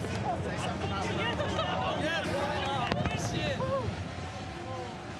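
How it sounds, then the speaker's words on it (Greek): Fireworks burst in the sky over Florida after the Daytona 500 NASCAR Cup Series finish, their pops and crackles blending into a constant, loud hubbub of crowd noise. "Βεγγαλικά στον ουρανό της Φλόριντα."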